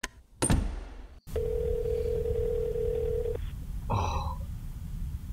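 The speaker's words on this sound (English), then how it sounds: "I yanked my phone to my ear and listened to the dial out noise." A mobile phone held to the ear gives a loud, steady dial-out tone lasting about two seconds after a rustle and thump, followed by a brief chirping electronic burst, with faint room noise throughout.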